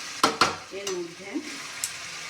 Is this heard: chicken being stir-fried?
yes